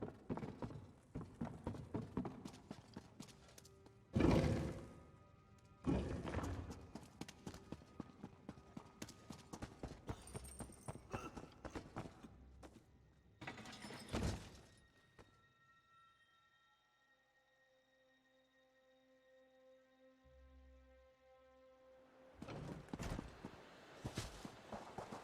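Camel hooves clip-clop in Elder Scrolls Online, a steady run of footfalls through the first fifteen seconds with two heavier thumps, fading to a quiet pause with faint tones before the hoofbeats return near the end.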